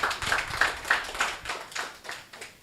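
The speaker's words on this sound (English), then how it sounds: "Let's give them a round of applause." A few people clapping in a steady, spaced rhythm for an SME pitch team, sounding thin and moderately close, like a small audience rather than a big crowd.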